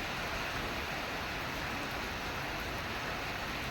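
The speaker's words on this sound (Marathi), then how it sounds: "गरमीच्या दिवसात पाऊस पडतोय." Steady unseasonal rain falls in a village during hot weather as a dense, even wash of hiss, close and constant throughout with no voices.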